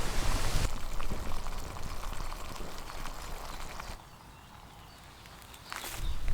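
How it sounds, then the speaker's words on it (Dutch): Water boils at a rolling bubble for purification outdoors, a steady dense crackle and gurgle that eases for a moment before swelling again. "Breng het water 5 minuten aan de kook, dat het water borrelt, zoals hier."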